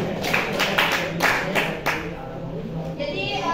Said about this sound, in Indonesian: Tepuk tangan untuk kelompok 6 dulu.